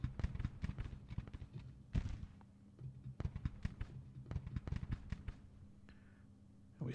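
Troops fire volleys in Ultimate General: Civil War, scattered crackling musket shots and dull thuds in irregular bursts, fairly faint and distant, with no talking.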